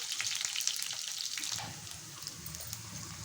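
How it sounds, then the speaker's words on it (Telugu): Oil sizzles and crackles steadily as onion and green chillies fry in a kadai, loud and close, with faint stirring. "అదే కడాయిలోనే ఇక్కడ ఆయిల్ పోసుకొని అందులో ఒక ఆనియన్ కట్ చేసుకొని రెండు పచ్చిమిర్చి వేసుకున్నాను"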